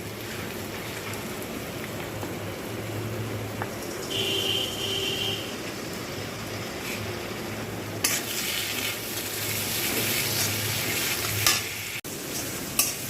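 Masala with tomato sauce for a prawn curry, made with sesame, poppy seed and mustard, is stirred in hot oil in a pan, a steady sizzle with scraping stirs and a louder burst later, close, with no speech.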